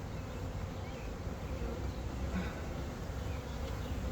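Carniolan honeybees hum in a dense, continuous, fairly faint buzz during an open hive inspection, with no one talking.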